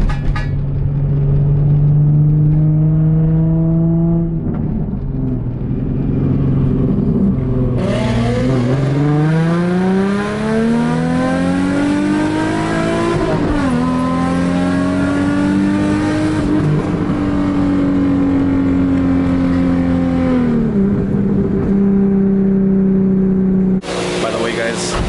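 A car revs hard and accelerates fast at a car wash, the engine note sweeping up and down repeatedly in loud, close bursts for most of the stretch, with a steady low rumble beneath.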